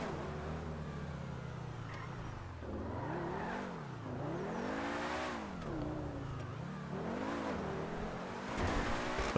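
An engine hums and revs as a car drives in Grand Theft Auto 5, its pitch rising and falling in repeated swells with gear changes, steady and fairly close with no voices.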